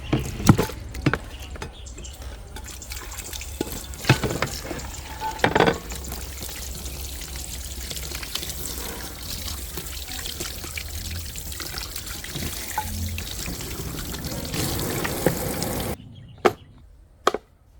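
Puffer fish being washed under running tap water, a steady close stream pouring and splashing with a few sharp knocks of handling, ending in a brief quiet with small clatters.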